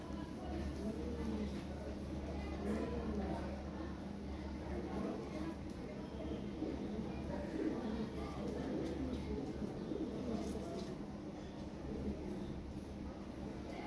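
Lahore pigeons at a farm coo softly and repeatedly in a low murmur, a fairly faint continuous chorus over steady low background hum.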